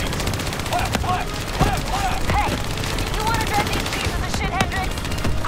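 Rapid gunfire in Call of Duty: Black Ops III campaign, dense continuous shooting close by throughout, with players talking over the din.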